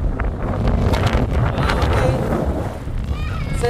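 Strong wind at Pyramid Island near Patricia Lake in Jasper buffets the microphone in a steady, loud rumbling roar that fills the whole moment without a break.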